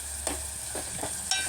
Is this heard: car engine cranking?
no